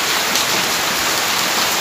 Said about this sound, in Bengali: এই যে বৃষ্টি, সুন্দর বৃষ্টি, হাওয়াও দিচ্ছে দেখো।